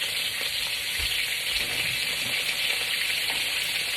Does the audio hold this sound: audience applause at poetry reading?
no